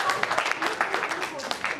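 Scattered applause in a radio studio during a Friendship Day celebration with singers, patchy claps that rise and fall, mixed with voices talking over it.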